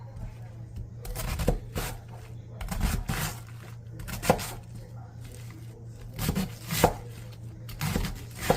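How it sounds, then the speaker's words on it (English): Knife chopping through cabbage into fairly large pieces on a cutting board, a series of crisp thuds coming in irregular bursts, up close, with a steady low hum running underneath. "I'm going to chop up my cabbage, and I chop it into fairly large pieces as well."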